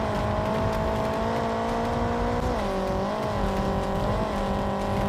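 A car in a racing video game accelerates with a steady whining engine tone that climbs, dips briefly at gear shifts and climbs again, moderately loud with no talk.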